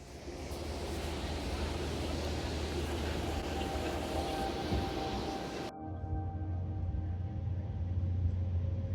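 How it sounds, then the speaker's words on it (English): A steady low rumble of a train climbing the Pikes Peak mountain railway fills the whole stretch, with a rushing, wind-like wash that abruptly dulls partway through; continuous, with no talk. "the train ride up Pikes Peak."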